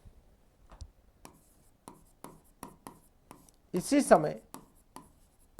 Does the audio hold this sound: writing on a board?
yes